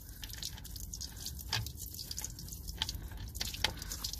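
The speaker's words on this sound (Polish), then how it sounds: "Teraz dopiero ścieka, zablokowany był odpływ." Water dripping and trickling from a freshly unblocked door drain on a BMW E60, a close, steady run of small drips and splashes without speech.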